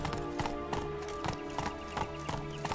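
Horse hooves trot in a steady clip-clop rhythm on the ground in The Witcher 3 video game, with a continuous background bed beneath the repeated hoofbeats.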